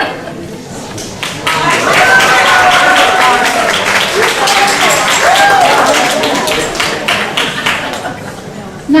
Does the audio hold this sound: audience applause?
yes